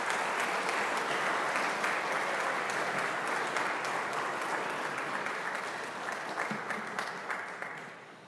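Sustained audience applause fills a school awards assembly honoring students with a 4.0 average or higher, dense and steady for about eight seconds before tapering slightly at the end.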